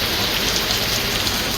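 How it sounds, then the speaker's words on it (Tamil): Moderate rain falls steadily in a Tamil Nadu town, an even, close hiss of drops on surfaces with no talk. "1/2 மணி நேரம் மிதமான மழை பெய்தது"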